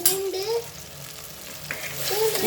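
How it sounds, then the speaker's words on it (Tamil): Chopped onions fry and sizzle in a clay pot for mint biryani, a steady close hiss with stirring scrapes, with faint high voice-like tones drifting over it. "ஆல்ரெடி வெங்காயம் பொன்னிறமாக வதங்கிச்சு"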